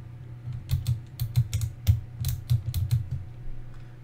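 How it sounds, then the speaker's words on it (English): Fast, close keystrokes on a gaming keyboard clatter in uneven bursts, the individual clicks and thocks sharp and distinct and trailing off toward the end, with no talking over them. "I'm in love with this gaming keyboard, Andrew."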